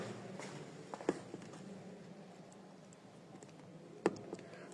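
Two isolated clicks of keypad buttons being pressed to enter a PIN on a microcontroller-based security lock, faint and spaced a few seconds apart against a quiet room.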